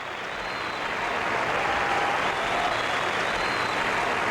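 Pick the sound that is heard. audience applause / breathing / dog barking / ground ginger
audience applause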